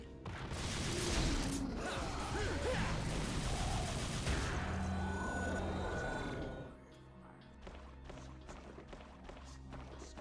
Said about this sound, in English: Use that devil trigger explosion.